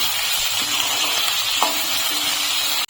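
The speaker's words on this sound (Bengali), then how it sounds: "এখন একটু নেড়ে চেড়ে নেব" Capsicum and cauliflower stir-fry in a pan for chilli cauliflower, with soy sauce and salt added, giving a steady broad sizzle and a few soft stirring knocks throughout, continuous and close.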